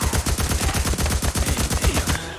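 Rapid automatic gunfire in the video game Days Gone, a dense, fast, evenly spaced burst of loud close shots that continues almost without a break before stopping abruptly.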